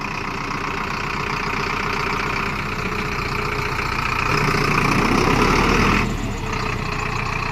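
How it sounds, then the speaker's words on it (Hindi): A 75 HP 4x4 diesel tractor engine idles steadily up close, a rough, knocking rumble that grows slightly louder for a moment before settling back. "जैसे नॉर्मल CRDI इंजन की आवाज़ होती है उससे कहीं बेहतर कड़क आवाज़ है इसकी"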